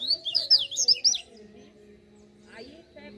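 A wild mateiro songbird sings a quick run of high, thin chirps in the distance, then falls quiet over a faint steady outdoor hum.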